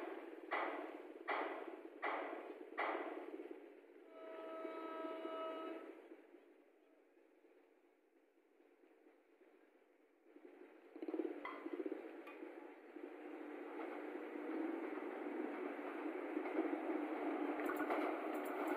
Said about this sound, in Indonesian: Persiapan melintas langsung di stasiun Cimakarya.